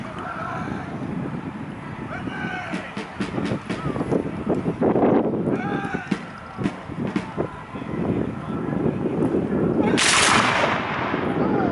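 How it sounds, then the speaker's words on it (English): Black-powder musket volleys ring out at a Civil War reenactment on an open field, loud cracking bursts and ragged crackles over steady wind noise and distant crowd murmur, with one sharp close report near the end. "do we think that the Confederate volley was the best one?"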